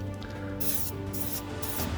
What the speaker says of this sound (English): then spray again over that